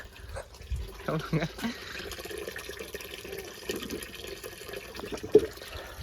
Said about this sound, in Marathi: तुमका दाखवते आमच्या नळात किती स्वच्छ पाणी येईल